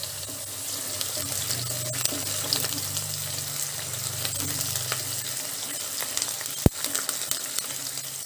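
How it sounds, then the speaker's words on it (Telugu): Sliced onions and curry leaves sizzle in hot oil in a pan with cinnamon, a continuous close crackling fry broken by a sharp clank of a utensil near the end, with no voices. "ఇప్పుడు ఇందులో ఉల్లిపాయ ముక్కలు వేసుకుందాము ఇందులోనే కొద్దిగా కరివేపాకు వేసుకుందామండి"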